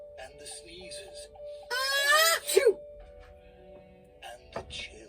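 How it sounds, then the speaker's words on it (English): A single sneeze sound effect builds as a drawn-out rising intake and ends in a sharp burst, fairly loud and close, with brief quieter vocal sounds before and after. "and the sneezes"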